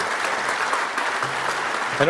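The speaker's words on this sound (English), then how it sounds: "let's give them a round of applause" Steady applause from an audience at a Saturday morning talk on inertial confinement fusion energy, with continuous clapping and a speaker's voice coming in at the very end.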